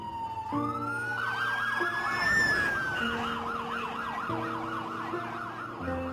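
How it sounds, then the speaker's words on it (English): Multiple emergency vehicle sirens in New York wail at once, overlapping rising-and-falling tones and steady horns, loud and continuous over a low rumble of traffic. "from every direction, you just heard sirens coming."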